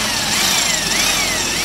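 A Nissan Maxima's engine runs steadily at close range, a continuous mechanical drone with a faint high whine and no talking.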